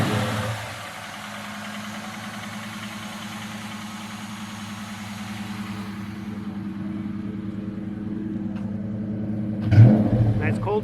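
A Ford Mustang engine, just repaired after an oil filter housing gasket leak, settles into a steady low idle after a cold start and gives a brief louder rev near the end. Someone speaks partway through.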